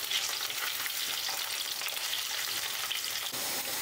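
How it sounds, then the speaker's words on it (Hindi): Potatoes fry in a pan over a medium gas flame, producing a continuous, even, close-up sizzling hiss with no voices. "गैस का फ्लेम मीडियम करके आलू को पहले हम 2 मिनट के लिए फ्राई करेंगे"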